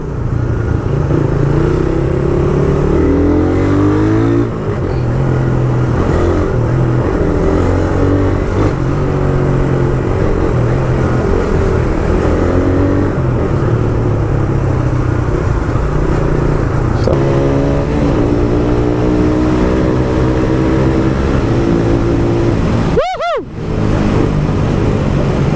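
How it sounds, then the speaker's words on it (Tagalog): Raider 150 motorcycle engine revving loudly and close on a traffic-heavy road, rising and falling through repeated throttle bursts with a continuous growl, a brief sharp sweep near the end. "Iba ang lakas ng Raider 150 guys."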